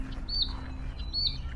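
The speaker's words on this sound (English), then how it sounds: "What a beautiful bird." Bird chirping outdoors in fine weather, two short bright chirps about a second apart with a steady low hum underneath.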